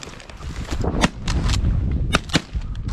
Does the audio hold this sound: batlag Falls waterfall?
no